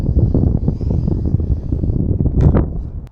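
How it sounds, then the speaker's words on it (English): A light RC Factory Gripen model plane buzzes past outdoors at a flying field, its small motor whining over heavy wind rumble on the microphone, rising briefly as it passes. "this is the Gripen model, and it's from RC Factory. It's you know, it's a really light little plane."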